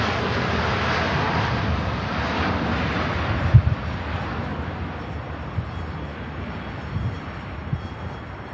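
A jet airliner in a striking livery moves past at Manchester Airport, its engine roar a broad, steady wash that swells slightly and then eases, heard at a distance alongside some wind buffeting.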